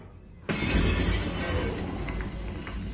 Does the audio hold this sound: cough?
no